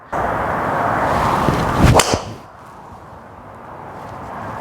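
A TaylorMade Stealth Plus golf driver strikes the ball with a single sharp, bright crack, rising out of a steady background hiss that quiets down after the hit.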